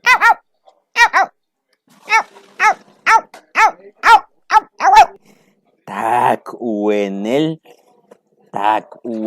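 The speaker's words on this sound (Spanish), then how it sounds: "¿Cómo ladras, Kira?" A pet dog gives a series of short, sharp barks in quick succession, close and loud, followed by a longer whining howl and a few more yaps, with brief silences between.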